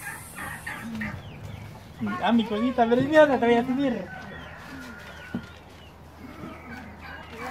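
A hen clucks close by during a family birthday lunch, with a burst of throaty clucking in the middle. Spanish-speaking voices talk over and around it.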